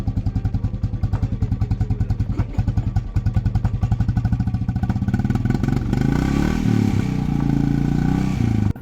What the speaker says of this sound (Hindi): Bullet start challenge.